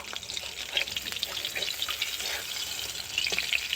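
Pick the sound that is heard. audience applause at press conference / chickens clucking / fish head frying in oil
fish head frying in oil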